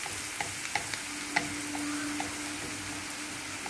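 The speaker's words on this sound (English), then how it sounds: "all together fry in the oil" Onion, tomato and spices fry in hot oil for an egg masala, a steady close sizzle with a few light stirring clicks and taps, no talking.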